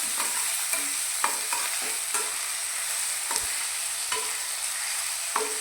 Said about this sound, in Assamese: এতিয়া আদা নহৰুখিনি কেঁচা গোন্ধটো যোৱালৈকে ফ্ৰাই কৰি ল'ম